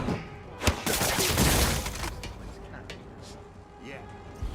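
A burst of enemy gunfire in Marvel's Spider-Man game crackles with rapid shots and shattering impacts, then fades under game character voices.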